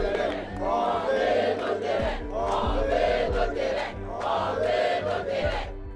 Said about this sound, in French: les voix s'élèvent, mêlant colère et lassitude